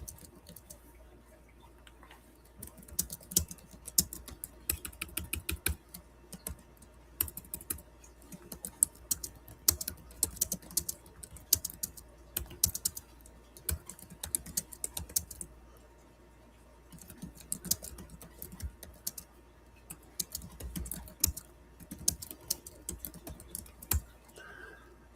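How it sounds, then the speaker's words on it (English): Steady keyboard typing, quick clusters of key clicks with short pauses between bursts, close and fairly quiet against a faint background hum. "I'm just typing in my question"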